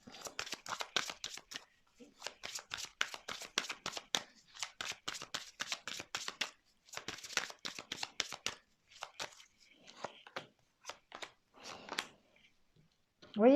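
Tarot cards riffle and flick in quick rapid bursts close by, several shuffling runs separated by short gaps, followed by softer scattered slaps as cards are laid down.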